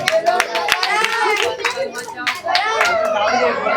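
Scattered rapid clapping from a small gathering honouring young children's game prize winners, continuing throughout beneath an adult voice talking close by.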